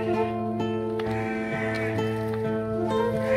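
Goats bleat from a pen in a rain-soaked Sundanese village, with several wavering, drawn-out calls close by that overlap one another and continue without pause.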